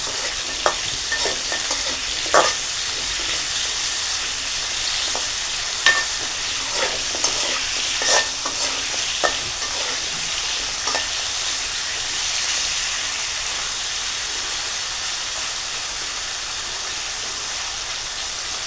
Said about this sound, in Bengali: একটু লবণ, হলুদ, এই দুটো দিয়ে আলুগুলো একটু হালকা করে ভেজে নিতে হবে।